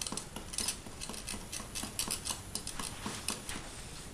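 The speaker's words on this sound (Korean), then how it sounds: "마지막으로 설탕 뜨거운 물에 잘 저어줍니다" A spoon stirs sugar into hot water in a cup, making quick, light clinks and scrapes against the sides in an irregular rapid rhythm. The sound is close and faint, with no voices.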